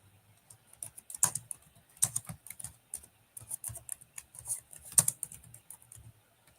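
Someone types a question on a computer keyboard, a close, quiet, uneven patter of key clicks with brief pauses between bursts, and no talking over it.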